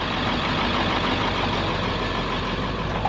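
A stuck dump truck's engine idles in a steady, loud, broadband rumble that holds constant throughout, with no talk over it.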